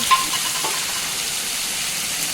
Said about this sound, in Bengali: আলুর সাথে খুব ভালোভাবে মতো কষিয়ে নিচ্ছি মশলাটা